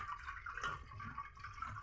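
Water runs and splashes as it is poured over boiled pasta to cool it in a home kitchen, a soft steady rushing that is quiet and close, with no talk.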